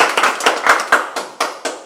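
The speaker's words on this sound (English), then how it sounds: "I'd love to give her a round of applause." Short burst of audience hand clapping at a talk event, a handful of close, sharp claps in loose rhythm, with no talk.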